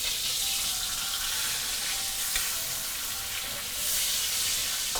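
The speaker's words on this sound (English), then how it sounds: "So this is called deep frying." A pork chop deep frying in hot oil for Hainanese pork chop, a steady crackling sizzle with bursts of bubbling, close and fairly loud with no speech.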